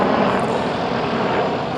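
Red Bull Bo-105 helicopters flying aerobatics at an airshow, a loud steady roar of engines and rotors overhead with no voices.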